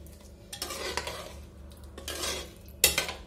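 A cooled pressure cooker full of chicken biryani is opened, its metal lid clanking and scraping in several clattering bursts, ending with a sharp, bright clink near the close; no voices.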